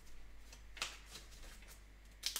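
A Pokémon trading card slides into a protective sleeve: two brief, soft papery swipes, one near the start and one near the end, close and quiet with no talk.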